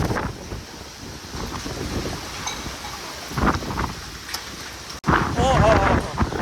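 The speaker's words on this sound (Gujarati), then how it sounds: "જોતા ભાઈ આ પવન આવે જોતા ઝાડવામાં તમને ખબર પડતી હવે" Strong dust-storm wind roars through trees during a road trip, a steady broadband rush with louder gusts and a sharp burst near the end, while someone talks over it.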